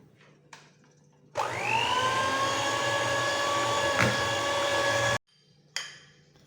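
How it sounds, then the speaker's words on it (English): An electric mixer combines flour into the egg mixture for an apple mascarpone cake batter, a steady whirring motor running about four seconds, starting and stopping abruptly, close and loud. "you add half of the flour into the eggs mixture and you mix it again until well combined"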